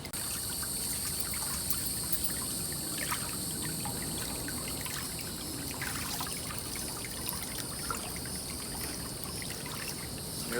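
Water draining out of a turtle's tub, a soft continuous trickle and pour with faint splashing, steady and fairly quiet throughout.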